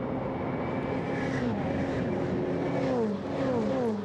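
Turbocharged Ferrari 488 Challenge race cars lapping the 4.936 km Imola circuit, a steady, loud engine roar with rising and falling pitch sweeps as cars pass and shift, continuous throughout.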